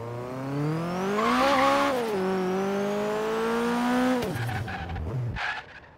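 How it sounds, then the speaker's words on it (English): A car revving and drifting in Forza Horizon 3: a loud engine rises and falls through the gears with a strained whine, then tires squeal and skid briefly near the end. "I was waiting for the engine noise."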